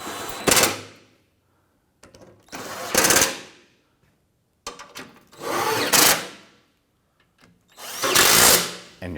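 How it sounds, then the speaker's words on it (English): A power tool snugging down bolts on a power steering pressure line on a 2006-2010 Hummer H3, four separate close whirring bursts with quiet gaps between them and no talking. "Install the forward bolts. Go ahead and snug these down."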